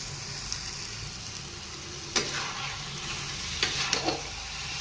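Chicken kasha sizzles steadily in a hot pan while a spoon stirs it, with a few sharp scraping strokes over the constant frying hiss and no speech.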